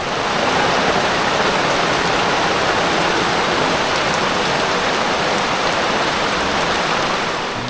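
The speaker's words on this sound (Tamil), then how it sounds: "நல்லா மழை பெய்யிட்டோம்" Heavy rain pours steadily over a mountain forest in the Western Ghats, a dense, continuous hiss of drops striking leaves and ground, loud and close, with no pauses and no voices.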